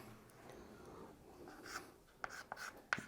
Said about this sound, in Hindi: हम यहाँ पर नेम लिखते हैं